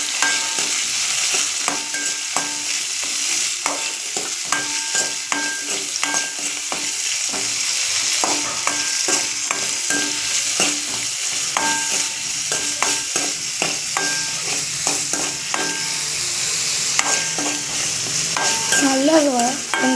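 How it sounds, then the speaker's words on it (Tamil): Tomato, ginger and garlic sizzle and fry in hot oil as a spoon stirs them for tomato thuvaiyal, a steady close hiss broken by frequent scraping strokes throughout. "ஆயில் ஆட் பண்ணி அது நல்லா ஹீட் ஆனதுக்கப்புறம் தக்காளி, இஞ்சி, பூண்டு இதெல்லாம் சேர்த்து நல்லா வதக்கி விட்டுக்கோங்க."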